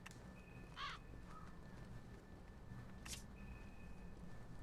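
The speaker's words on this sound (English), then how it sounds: "I hear birds." A couple of crow caws in a video game ring out, one early and one later, faint and distant over a low ambient background hum.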